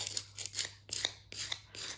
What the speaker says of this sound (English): by just dragging my file along the edges and kind of taking away the outer layer of the paper